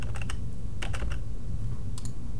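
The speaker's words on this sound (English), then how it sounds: "I'm using the arrow keys on my keyboard" Arrow keys on a computer keyboard tapped in quick clusters of three or four clicks, with pauses between, over a loud steady low hum.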